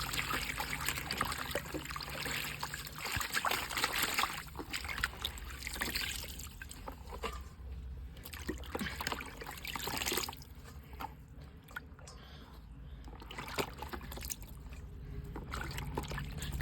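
Faint, steady trickle of running tap water while hibiscus leaves are rinsed for a homemade hair pack, with light splashes and handling noises close by.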